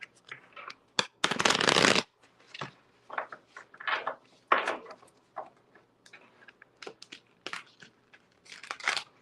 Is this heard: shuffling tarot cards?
yes